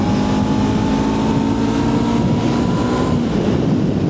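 Motorbike engine named Juno, fitted with a new imitation aftermarket exhaust meant to sound bassier, running steadily on a morning ride with a constant low drone and wind rush throughout.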